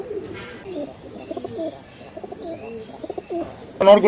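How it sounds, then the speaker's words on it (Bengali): Local Shahjahanpuri pigeons coo in soft, repeated throaty bursts, close by, ending with a brief louder rustle or flutter. "দুটা কবুতর হইতেছে স্থানীয় শাহজাহানপুরি কবুতর"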